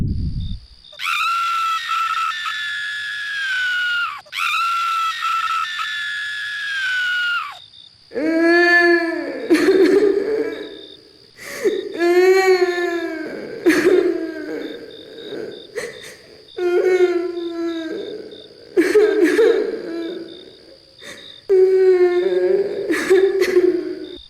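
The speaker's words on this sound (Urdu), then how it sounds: "اسے قبرستان سے چیخنے کی اور جانوروں کے دھاڑنے کی آوازیں آنے لگتی ہیں۔" Screams and animal cries in a dark graveyard at night for an animated horror story, a long drawn wail followed by repeated shrieking howls over a steady high insect-like drone.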